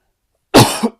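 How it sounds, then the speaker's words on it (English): A single sharp cough close by after a moment of silence, followed by a brief second burst. "I apologize for coughing"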